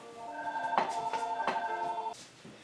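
A home telephone rings with three quick electronic trills in a steady rhythm, clear and moderately loud, with quiet room tone and no talking.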